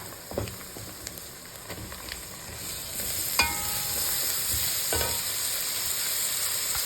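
Turmeric and red chili powder get stirred into hot oil in a pan while cooking a traditional Maharashtrian chawli greens dish. A steady soft sizzle runs throughout, broken by occasional spoon scrapes and taps. No voices are present.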